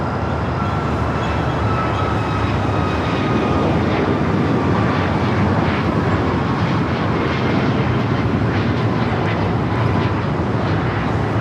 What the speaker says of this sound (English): Away at that Cathay Pacific 777 out to the remote gates